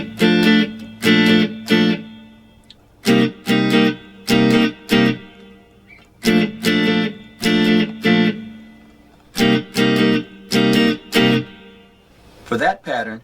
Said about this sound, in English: For the first strumming pattern, we'll be playing kind of what the horns are playing.